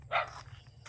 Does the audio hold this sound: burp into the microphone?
no